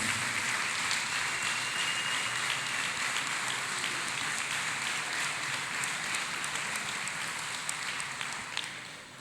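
A church congregation clapping hands for Jesus during a service, a dense, even wash of many hands clapping together, fairly distant and steady before tapering off at the end.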